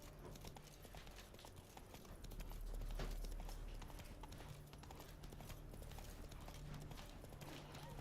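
Horse hooves clip-clop in a steady galloping rhythm throughout, swelling louder midway, with faint ambient game sounds beneath; ridden across a battlefield near Novigrad in The Witcher 3 Next Gen.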